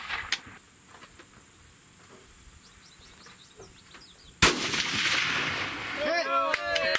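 One sharp long-range rifle shot cracks out in an open field after a stretch of quiet insect chirping, its boom rolling and decaying for a couple of seconds while faint voices stir afterward.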